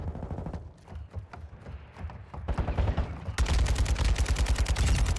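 Rapid bursts of gunfire in Call of Duty: Modern Warfare 2 crackle in quick succession, sparse at first and then a dense, loud stretch of continuous automatic fire.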